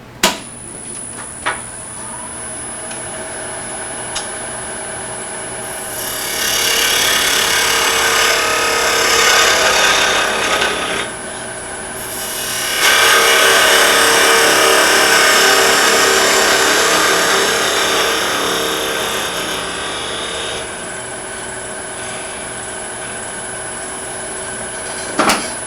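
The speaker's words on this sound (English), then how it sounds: "This is my tool of choice, this little round skew is for cleaning off that end grain." A small round skew chisel cleans up the end grain of a small turned wooden ring box on a lathe, a steady scraping and cutting rasp over the lathe's hum, swelling in two long passes with brief pauses between.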